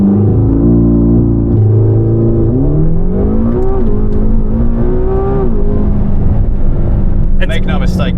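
A 2025 McLaren GTS launches and accelerates hard, its loud engine note climbing steadily in pitch through the revs, heard from inside the car with steady road roar.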